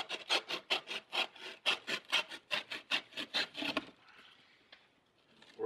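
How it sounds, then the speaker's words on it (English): Rhythmic rasping strokes of a blade cutting about half an inch into a darkbox sleeve, roughly fourteen quick close strokes in steady succession, then stopping to leave a faint quiet scrape and handling noise. "I'm just gonna cut up here about a half inch"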